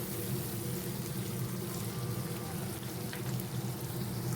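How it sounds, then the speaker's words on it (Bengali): Onions frying in oil in a pan alongside a pot for a Bengali meat-and-rice meal, giving a steady, moderate sizzle with a low hum beneath, no talk. "আর এই পাশে পেঁয়াজ ভাজতে বসিয়ে দিয়েছি"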